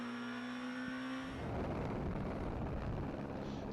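A rally car on a tight, twisty stage at Rally San Marino, with no power steering, revs hard and accelerates up close, its engine note rising into a loud, rough roar partway through.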